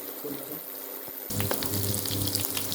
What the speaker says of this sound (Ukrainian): І так цибулька підсмажилася.